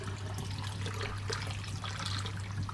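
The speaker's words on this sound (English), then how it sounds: "I put some hot water inside so I can make it in there" Hot water runs steadily into a cooking pot being rinsed of goat grease, a continuous close, moderately loud splashing stream with a low hum beneath, no voices.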